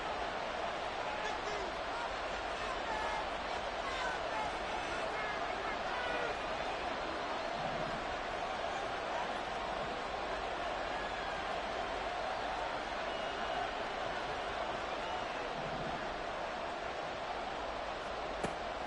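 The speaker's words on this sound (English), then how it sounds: "That just means this crowd's going to get even louder" A football stadium crowd roars in a dense, constant wash of noise for the whole stretch, loud and unbroken, with a commentator talking over it.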